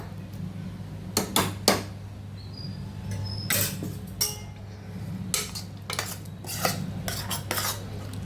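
A spoon presses and mixes peeled boiled potatoes in a bowl, producing several sharp metallic clinks and scrapes in irregular bursts over a low steady hum, close by with no speech.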